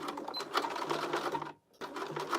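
A sewing machine stitching a crossbody bag runs in a steady, fast rhythmic chatter, close and clear, with a brief pause before resuming.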